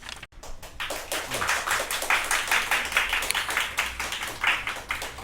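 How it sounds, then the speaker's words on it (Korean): A church congregation applauds to welcome a missionary to the pulpit, steady, dense clapping from many hands filling the room and continuing for several seconds with no talk over it. "나오실 때 뜨거운 박수로 환영해 주시고"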